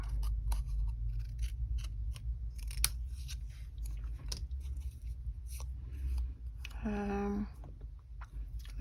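Scissors snip through a stamped paper card at a crafting desk, a run of short crisp cuts under steady low background hum, close and moderately loud.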